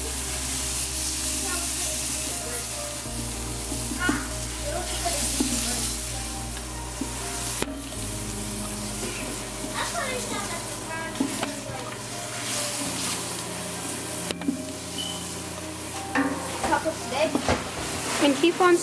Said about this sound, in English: keep on stirring, keep on stirring until you get a nice golden brown color for the onions and the garlic